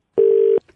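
A single short, steady electronic beep, loud and clean, like a phone's call-ended tone, followed by a faint click.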